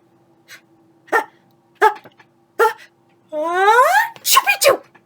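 A reader's voice imitates a sneeze as a half-spoken password, starting with a few short breathy catches and building into a rising, wailing exaggerated burst, close and loud, in a quiet room.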